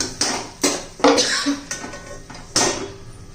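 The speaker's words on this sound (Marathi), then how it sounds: "आता झाकण ठेवून घेऊया" A lid goes onto a cooking pot of spicy bitter gourd (karela) bhaji, giving several sharp metallic clanks and clatters close by, spaced unevenly, with one final ringing knock.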